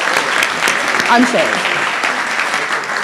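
Audience at an awards ceremony during a morning AGM applauds steadily and densely throughout, with a voice speaking briefly over the clapping.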